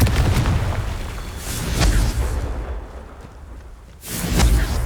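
Explosive Confringo spell cast in Hogwarts Legacy, bursting in booming blasts with whooshing tails: one near the start, another around the middle, and a third after a brief quiet gap near the end.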